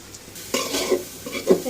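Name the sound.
long beans and carrots stir-frying in a pan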